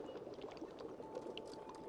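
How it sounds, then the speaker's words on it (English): Water heating in a kettle or pot for tea, a steady soft liquid hiss and bubbling with faint trickles, low and continuous throughout with no talk. "let me just start boiling the water"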